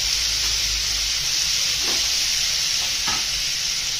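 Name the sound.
chopped cucumber sizzling in a pan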